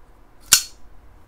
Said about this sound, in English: That is the sound of a knife.